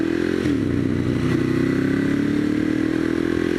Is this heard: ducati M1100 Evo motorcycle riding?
yes